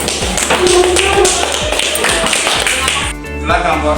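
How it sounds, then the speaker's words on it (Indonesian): A classroom of students claps for a group that has just finished its presentation in an Islamic religious education lesson: loud, close, dense clapping with some chatter mixed in, fading briefly near the end before picking up again. "tepuk tangan dulu kelompok 1"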